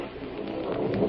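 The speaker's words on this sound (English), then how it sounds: "It's starting to rain." Rain sound effect in a 1940s radio mystery drama: a steady, moderately loud hiss of falling rain fills the moment alone, with no distinct thunder clap standing out.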